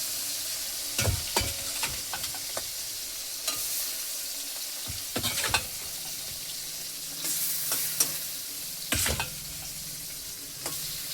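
Tangra fish sizzling in oil in a wok, a continuous crackling fry broken by clattering knocks and bursts of spattering, with no voices.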